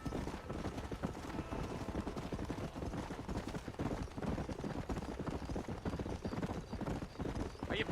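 Horse hooves clip-clop in a quick, steady gallop in the video game Red Dead Redemption. The hoofbeats are fairly quiet, with a faint whinny near the end.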